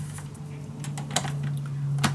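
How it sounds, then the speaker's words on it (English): Paper is cut for a handmade scrapbook mini album, a run of small irregular snips and clicks over a low steady hum, close and fairly quiet, without talking. "let me just cut this piece"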